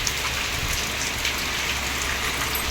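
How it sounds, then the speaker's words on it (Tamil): Steady rain falls continuously, a dense close hiss of drops striking surfaces with no pauses. "அதுக்கப்புறம் மழை வருது பாருங்க"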